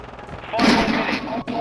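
Gunfire in Call of Duty Modern Warfare II during a Search and Destroy match: a loud, dense burst of shots lasting under a second, cut off briefly before resuming.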